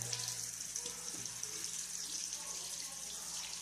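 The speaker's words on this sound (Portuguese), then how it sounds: "Agora o pai vai abrir a torneira agora, pra você lavar a mão." Water runs steadily from a faucet into a sink while a child's hands are washed, a continuous close hiss with a low hum beneath and faint voices.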